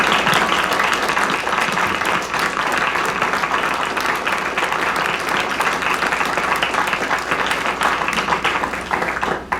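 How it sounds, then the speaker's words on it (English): Audience applauding candidates after a forum, a dense, steady clapping that fills the room for nearly ten seconds, loud and even, with a faint murmur of voices beneath. "I think this would be the appropriate time to applaud our candidates"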